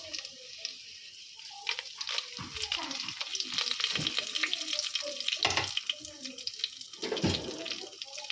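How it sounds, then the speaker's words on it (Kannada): Biryani spices and kasuri methi frying in a pan, a faint sizzle broken by scraping stirs and clatters, with no speech over it. "ಎಲ್ಲ ಸ್ವಲ್ಪ ಫ್ರೈ ಮಾಡ್ಕೊಳ್ಳೋಣ."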